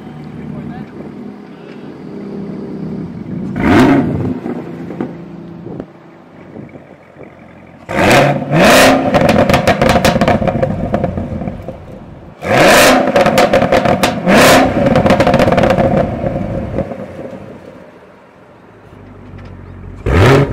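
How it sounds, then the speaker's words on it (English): Chevrolet Camaro ZL1 1LE exhaust: a cold startup burst at about four seconds, then two long loud acceleration pulls with hard revving roars, each several seconds, close to the car and trailing into idle. "I want you guys to hear a little bit of what the car sounds like. And so we're gonna do a little startup and a little acceleration vid right here."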